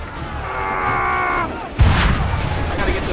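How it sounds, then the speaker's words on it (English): Ship cannons firing during a naval battle in the video game Assassin's Creed 3, a sudden heavy boom breaking through steady game noise and a tonal hum, followed by a rumbling, crackling tail. "Load the cannons!"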